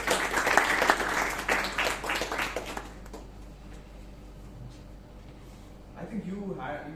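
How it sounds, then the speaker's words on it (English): A Toastmasters meeting in Bangalore breaks into a short burst of applause that dies away after a few seconds, followed by quiet room tone and then a voice talking. "I'd like to give you a round of applause."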